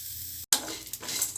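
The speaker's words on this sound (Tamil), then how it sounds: "தேங்காயை நல்லா ஈரம் போக வதக்கிடுவோம்" Grated coconut fries in a pan for bottle gourd gravy, a close, continuous sizzle broken by a brief dropout and a stirring scrape, with no talking.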